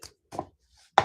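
Paper being cut for a handmade Valentine journal, heard as three short, crisp snips with gaps between them, close and alone.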